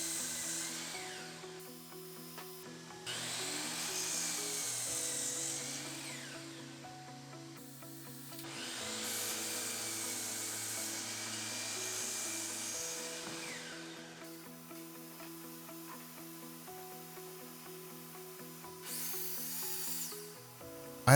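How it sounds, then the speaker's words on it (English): A miter saw cuts through lumber in a long, whining run of steady buzzing, with a few rises and falls in pitch as the blade bites and spins down between cuts. No one speaks. "The miter saw is one of the few power tools I'll be using."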